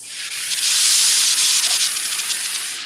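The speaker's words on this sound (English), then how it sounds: "I want to make sure I flush any potential condensation before I use it, so I have that dry steam every single time." A LauraStar steam iron flushes out condensation with a single sustained burst of loud, close hissing steam lasting a few seconds, with no talking.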